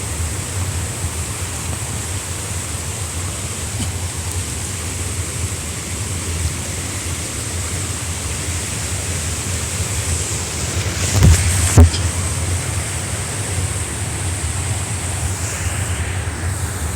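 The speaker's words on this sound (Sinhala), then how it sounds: "ඇල්ලෙන් පහලට වතුර එන විදිහ කොහොමද කියලා." A waterfall pours down over rocks, giving a steady, continuous roar of falling water close by. There is no talking, and a brief louder splash or knock stands out near the end.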